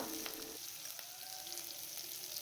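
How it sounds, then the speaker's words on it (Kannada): Curry leaves sizzling in hot oil with ginger-garlic paste in a pan while cooking fried rice, a faint, steady crackling hiss with small pops, close and continuous, no talk. "ನೆಕ್ಸ್ಟು ಕರಿಬೇವಿನ ಸೊಪ್ಪು ಹಾಕ್ಕೊತಾ ಇದ್ದೀನಿ."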